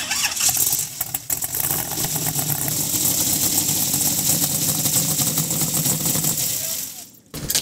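A drag racing vehicle's engine cranks and fires, then runs loud and rough at close range for several seconds before cutting off abruptly near the end.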